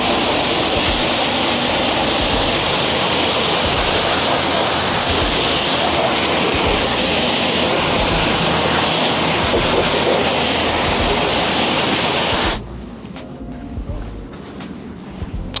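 A water hose rinses soapy suds off a car's paint during a full detail, a loud, steady broadband spray of splashing water that runs without a break, then cuts off abruptly near the end and leaves quiet room noise.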